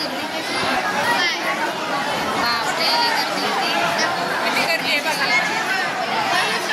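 Dense crowd chatter fills a busy Swami Samarth temple in Akkalkot, a steady overlapping babble of many voices close around, with no single speaker standing out.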